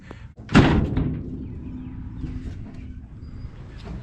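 The rear doors of an old sheet-metal panel truck slam shut once with a loud, close metallic thud, followed by a fading rattle and quiet ambience.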